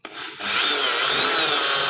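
A power tool whirs up after a short knock, then holds a steady, harsh abrasive grinding as a part for a Honda Beat Eco scooter is sanded, close and continuous.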